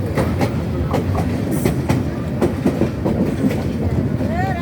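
Passenger train running on rails on the approach to Tongi, Bangladesh, with a steady rumble and repeated clickety-clack wheel beats over rail joints, close and continuous, with a faint high squeal near the end.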